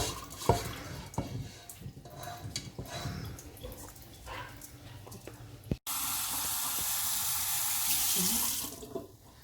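Water running and splashing in a kitchen sink as washed rice drains in a colander, a steady close rush with clatter, swelling into a louder, even stream in the second half.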